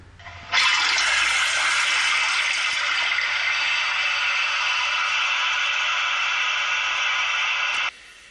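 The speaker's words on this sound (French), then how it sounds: "Voilà la chasse d'eau." A toilet flushes with a loud, rushing whoosh of water that starts abruptly, holds steady for several seconds, then cuts off.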